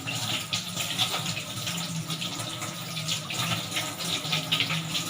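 Water runs steadily from a tap, a continuous splashing hiss at moderate volume with no speech.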